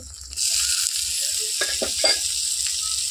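Spice paste with turmeric, salt and chopped tomato frying in mutton fat, a loud steady close sizzle that starts abruptly and carries on, with a few scraping stirs partway through.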